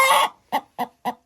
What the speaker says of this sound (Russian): Вот вам и старенькая курочка.